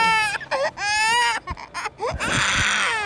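An infant with a heavily soiled diaper, hot and sweaty, cries in loud, close wails, several rising and falling bursts separated by brief catches of breath, building to a sustained strained cry.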